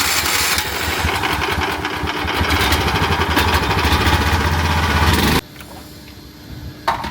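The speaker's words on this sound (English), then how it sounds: "Open the valve and start fire pump." The engine-driven fire pump on a 2026 Isuzu 4x4 rescue fire pickup runs at a loud, steady drone for about five seconds, then drops abruptly to a quieter idle.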